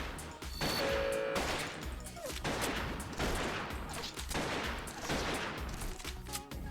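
Missile launches and explosions in the tower-defense game Artificial Defense, a dense run of loud blasts and whooshes rolling continuously over a busy battle mix with no pauses.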